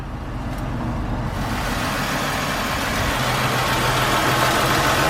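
A Chevrolet Impala 9C1, started after a dead battery, idles in a steady, close, loud low rumble that continues evenly throughout.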